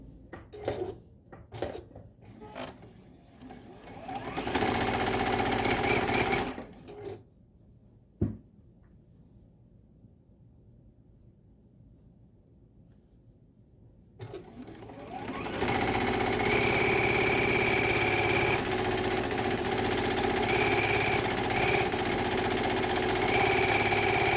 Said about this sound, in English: So I'm just going to grab a piece of sashing, grab my first block, and get stitching